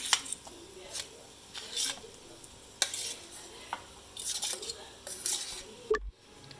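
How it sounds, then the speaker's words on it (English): Mashed potato samosa filling being stirred and mixed thoroughly in a pan, a spoon scraping and knocking against the metal with faint sizzling underneath, close and uneven, ending with a sudden dull thump. "We'll have to mix this thoroughly."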